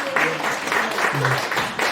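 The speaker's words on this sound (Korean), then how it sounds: "서로 박수로 드리겠습니다." Audience clapping at the close of a security lecture in a Korean hall, steady broadband applause lasting the whole moment with some voices mixed in.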